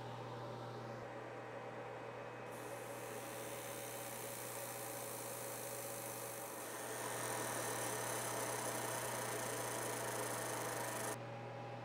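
A fiber laser engraves a deep heightmap pattern into a steel coin while fume extraction runs, giving a constant loud hum and hiss with a steady electrical drone that shifts slightly partway through and stops near the end.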